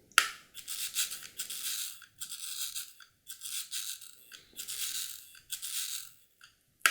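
Curta II mechanical calculator being worked by hand, its crank turning in repeated bursts of dry, whirring clicks with short pauses between them, close and fairly quiet, with no talking.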